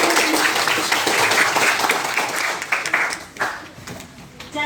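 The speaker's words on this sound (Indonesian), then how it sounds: "Kita berikan aplaus." Students in a school classroom break into a burst of dense, fairly loud applause that fades after a few seconds, with a voice speaking faintly underneath.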